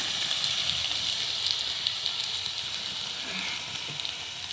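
Steady, close sizzling of onions frying in a hot pan for a tempering, a continuous bright crackle with a few louder pops, no voices.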